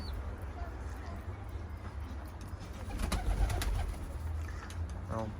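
Pigeons on a balcony, soft repeated cooing close by over a low background hum, with some fluttery rustles and a burst of quick calls near the end.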